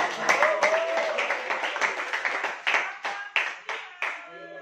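A small classroom group claps hands in a quick, close patter that thins into a few separate, louder claps toward the end, with a brief murmur of voices at the close.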